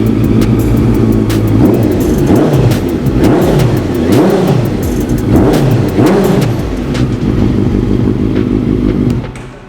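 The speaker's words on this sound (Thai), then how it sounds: "เดี๋ยวจะเบิ้ลเครื่องยนต์ให้ฟัง เล็กๆ น้อยๆนะครับ" A Honda CB650F four-cylinder motorcycle engine revs up and down several times in repeated bursts, loud and close, then idles before cutting off abruptly.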